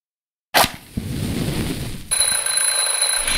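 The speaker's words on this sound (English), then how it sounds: "just testing the smoke detector" A smoke detector in The Journey Down video game starts suddenly after a moment of silence, giving a loud, sustained electronic ringing and high beeping tone that continues steadily to the end.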